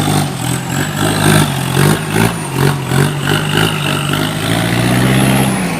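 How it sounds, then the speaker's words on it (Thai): A dump truck engine labours up a steep slope, revving steadily with a loud, rough drone and rising and falling pulses of throttle throughout. "โอ้โห รอบเครื่องเหลือครับดันได้สบายครับ"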